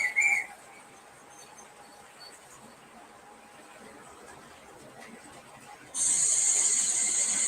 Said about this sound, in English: And then we got the old whistle, conductor's whistle.